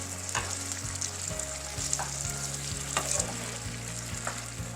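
Crushed tomatoes, Rotel and chili beans heat in a pan while being stirred, a continuous close sizzle marked by regular scraping strokes of the spoon over a low hum.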